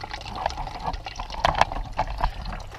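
Water running from a stove-fed hot water system, a trickling, splashing flow with uneven bursts and gurgles, fairly close and moderately loud.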